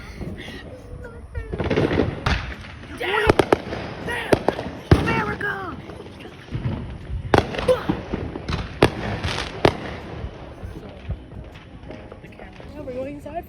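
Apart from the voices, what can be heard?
fireworks going off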